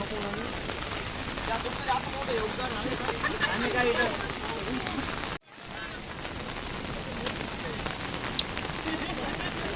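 Steady rain pattering on surfaces throughout, briefly cut off midway, with faint voices underneath, at Pahine waterfall near Trimbakeshwar.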